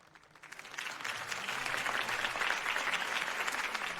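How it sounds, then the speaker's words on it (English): Crowd applause in the video game Batman: The Telltale Series at a political campaign event, rising from quiet into sustained, fairly distant clapping from a large audience. "If only Mr. Wayne, my campaign's largest backer, could have heard that applause"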